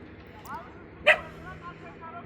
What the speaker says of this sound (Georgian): ეხლა ძაღლი ყვირს